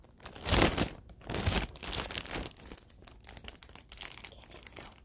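Thin plastic bag crinkling and rustling as it is handled, with louder crackly bursts early on and softer, irregular crinkles afterward, close up and with no talking.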